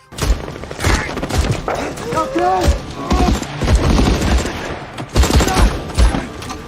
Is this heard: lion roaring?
no